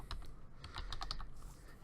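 Quiet, quick keystrokes tapping on a computer keyboard in a short irregular run, faint and close with no talking.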